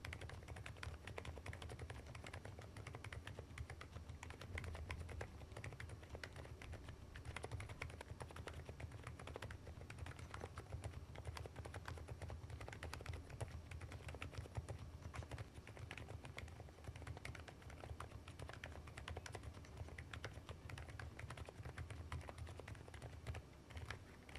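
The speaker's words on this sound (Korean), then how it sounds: "FL 저소음 스노우축을 타건해 보았습니다." Steady, continuous typing on an FL-ESPORTS Geo75 full-aluminum keyboard fitted with FL silent Snow switches, soft muted keystrokes running evenly throughout at close range with no talking.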